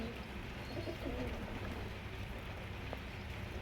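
Teddy pigeons cooing softly in a loft, a few low murmuring coos over a steady background hiss and rustle.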